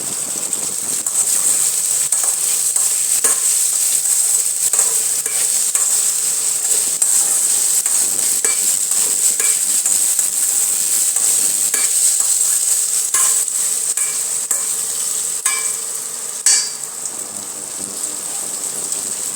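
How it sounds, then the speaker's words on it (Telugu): Potato pieces fry in a covered pan on the stove, giving a steady, fairly loud sizzle with a bright hiss that runs continuously. Occasional scraping and clinks come through as the pieces are stirred, with no voices present. "ముక్కలు కొద్దిగా వేగిపోయాయండి బంగాళాదుంపలు."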